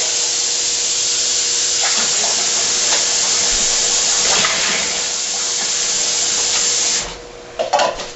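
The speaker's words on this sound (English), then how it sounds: "And dump the water in there." Water pours and splashes steadily into a container for several seconds during home winemaking, then stops, followed by a few brief clunks and knocks of a container.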